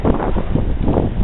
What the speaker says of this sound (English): Woo, Nelly, it's windy out here, but beautiful.